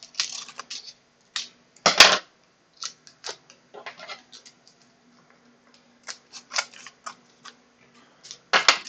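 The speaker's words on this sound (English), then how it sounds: "There's some of the plastic sticking out, so I can cut that off." Small cutters snip off protruding plastic on a drive mount in a series of sharp, close clicks and crunches, with one louder snap and quiet pauses between cuts.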